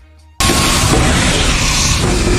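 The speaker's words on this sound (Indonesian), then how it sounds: "tiba-tiba si Petrov datang dan langsung menembaki mereka." Sustained loud burst of gunfire and booming blasts erupts abruptly after a quiet moment, dense and continuous, in an alien sci-fi film scene aboard a spaceship.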